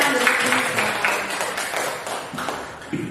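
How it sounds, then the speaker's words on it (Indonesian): Brief applause from a small group of teachers in a classroom or workshop setting, a steady patter of hand claps with a voice briefly rising near the end. "Tepuk tangan."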